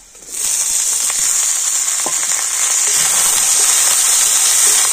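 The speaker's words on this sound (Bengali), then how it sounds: "তো সব কিছুর সাথে ফুলকপিটা একটু ভেজে নেব।" Steady, loud sizzling of boiled cauliflower frying in a hot pan, with a constant hiss and scattered crackles and pops throughout, no voices.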